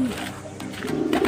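Pigeons cooing nearby, soft low throaty calls repeating over a faint background murmur.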